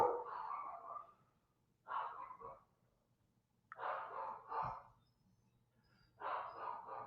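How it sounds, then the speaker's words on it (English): Several dogs barking in bursts of yips and woofs, three or four separate volleys with quiet gaps between, fairly faint and somewhat distant, with a low steady hum underneath. "I hope you can't hear those dogs"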